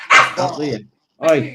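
A dog outdoors barks loudly and close, two sharp barks separated by a short silence, with a voice speaking over the first bark.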